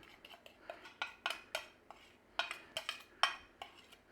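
A spoon scraping and clinking against a bowl while stirring spices into minced beef, a quiet series of irregular close metallic taps and scrapes with no talk.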